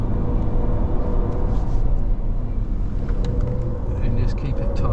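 A Ranger utility vehicle driven at full throttle around a circuit in Wodonga, its engine giving a continuous loud rumbling drone up close, with someone talking over it.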